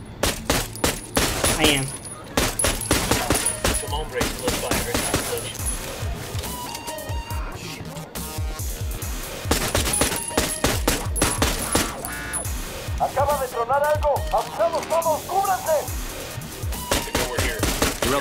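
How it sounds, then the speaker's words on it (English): Pistol gunfire in the tactical shooter Ghost Recon Wildlands, many sharp shots in quick clusters mixed with other gunfire and game effects, with brief speech. "I think I'm just supposed to shoot them. I'm gonna pull out the pistol."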